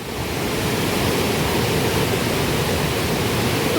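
A waterfall at the Seetha Amman temple in Nuwara Eliya, Sri Lanka, rushes in a steady, dense roar that stays even throughout, with no voices.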